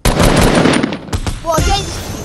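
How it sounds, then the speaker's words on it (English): Gunfire in the video game Fortnite: a loud, close burst of rapid automatic shots, then a short pause and a few more shots, with a voice speaking briefly. "Wait, I hear gunshots."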